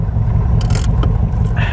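Handbrake of a Corvette C2 pulled with a short scraping rasp over the steady low rumble of the idling engine, close and fairly loud.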